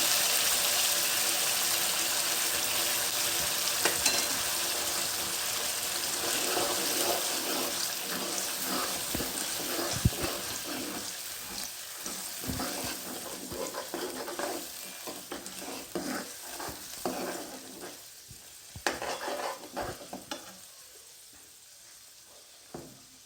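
Oily sizzling with repeated scraping and stirring in a pan as a ground spice paste is sautéed in oil for dal, steady at first and thinning out toward the end; no voices.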